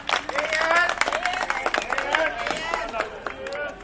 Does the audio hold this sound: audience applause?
yes